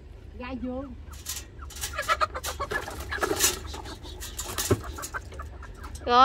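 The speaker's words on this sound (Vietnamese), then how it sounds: "Gà vườn." Free-range chickens cluck close by in a busy riverside trading spot, with short bursts of clucking mixed among people talking in the background.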